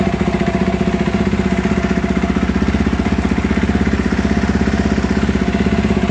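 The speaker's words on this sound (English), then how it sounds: "Final check, key on, and confirm bike starts after the upload." Husqvarna motorcycle engine idling steadily after an ECU map upload, a close, even, rapid thumping pulse that holds the same pace throughout.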